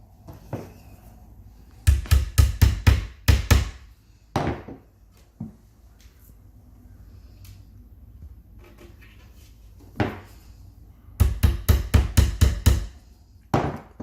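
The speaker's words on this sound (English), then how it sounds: "you will need the hammer to help to put the dowels into the hole" Sharp wooden knocks of a hammer driving wooden dowels into holes while assembling a cube organizer, quick bursts of several blows separated by pauses and a few single taps, close and dry.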